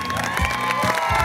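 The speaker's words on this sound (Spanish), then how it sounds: "el aplauso para Meli" A studio audience on a Bolivian game show cheers and applauds a contestant, a short burst of lively crowd noise with shouting voices mixed in.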